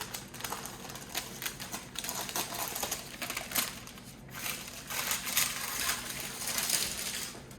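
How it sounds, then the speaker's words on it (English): Scissors snipping through parchment paper in short crisp cuts with crinkling rustle, close and fairly quiet, irregular rhythm. "So I'm gonna try cutting out some parchment."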